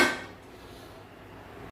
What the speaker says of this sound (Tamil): இப்போ லைட்டாக சும்மா மூடி மட்டும் வைக்கலாம்